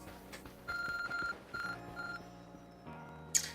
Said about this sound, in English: The arc phone is beeping.